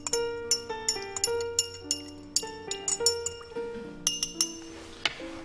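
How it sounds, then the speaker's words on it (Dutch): Ice being stirred in a glass for a Filliers jenever cocktail with liquid sugar, a quick run of bright clinks and ringing taps in irregular rhythm, close and crisp, with no talk. "Dan gaan we eventjes alles goed roeren."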